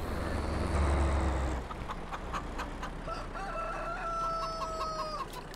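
A rooster in the farming game Farming Simulator 22 crows once in a drawn-out, wavering call at moderate distance, heard over low ambient farm noise with no talking.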